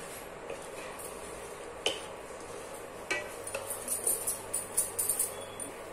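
A spoon mixes ghee into a shikanji ice cream mixture in a pan, giving soft scraping and stirring with light clinks of metal that grow brisker and more rhythmic toward the end.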